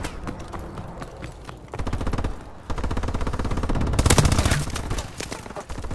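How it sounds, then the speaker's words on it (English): Rapid automatic gunfire in Call of Duty: Advanced Warfare multiplayer, dense rattling bursts of close shots that keep going, grow louder midway and continue almost without a break. "Who's shooting at me?"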